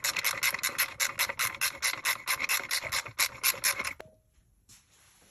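A 5/8 socket wrench ratchets on a STIHL FS240R trimmer while the spark arrestor is being reinstalled: about fifteen quick, evenly spaced rasping clicks over four seconds, close and fairly loud, then a single tick and near quiet.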